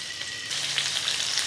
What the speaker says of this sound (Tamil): லைட்டாக இப்படி திருப்பி திருப்பி போட்டு ஷாலோ ஃப்ரை பண்ணி எடுத்துக்கலாம்.